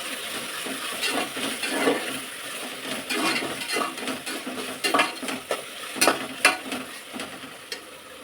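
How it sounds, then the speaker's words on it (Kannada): Ginger garlic paste frying in a little oil with turmeric while making tomato bath, with a spoon repeatedly stirring and scraping the pan, light clinks and a soft sizzle throughout, close and moderately loud. "ಸ್ವಲ್ಪ ಶುಂಠಿ ಬೆಳ್ಳುಳ್ಳಿ ಪೇಸ್ಟಿದು ಬೇಯಲಿ, ಸ್ವಲ್ಪ ಎಣ್ಣೆಲಿ ಫ್ರೈ ಆಗಲಿ ಚೆನ್ನಾಗಿ."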